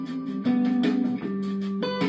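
The main rhythm guitar part from a song, isolated and panned hard left, plays clean electric guitar chords in short strummed pulses with sustained notes. It is close and alone.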